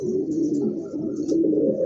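A pair of pet pigeons coo softly and continuously up close, a low throaty rolling murmur with no talking over it.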